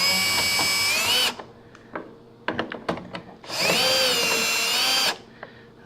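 A power drill backing out hex screws from a GE gas dryer panel whirs in two loud, rising bursts, separated by metallic clicks and taps of handling the screws.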